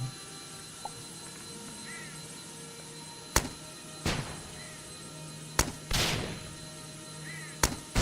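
Rocket launcher shots in the Starbound video game: several sharp, loud bursts spaced a second or two apart over a steady electronic hum, with faint chirping tones between them.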